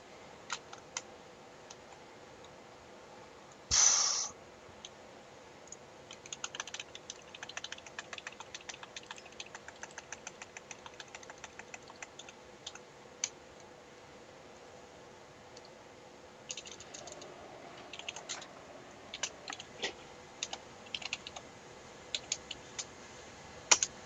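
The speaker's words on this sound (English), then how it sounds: "start typing in a different box" Keys on a computer keyboard click in quiet, uneven bursts, with one louder clunk early on, then scattered clusters of taps over low background hiss during a Project1999 online game event.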